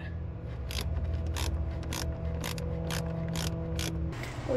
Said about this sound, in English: it's just a matter of undoing some of these screws and bolts and cleaning underneath it